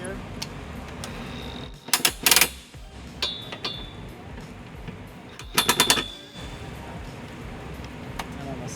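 A 17mm socket on a ratchet snugs down the bottom trailer hitch bolts on a 2018 Hyundai Santa Fe Sport, heard as two short, loud bursts of rapid clicking separated by quieter shop ambience.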